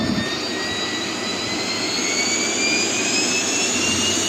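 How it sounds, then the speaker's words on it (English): A Cirrus aircraft engine at full takeoff thrust in the flight simulator X-Plane 12, a loud, steady, close roar with thin whining tones that slowly rise in pitch. "Alright, we're going to give it full takeoff thrust."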